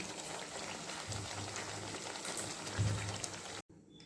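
Kakra pithe, a Bengali fried pastry, frying in hot oil makes a steady bubbling sizzle with faint crackles. The sizzle stops abruptly near the end.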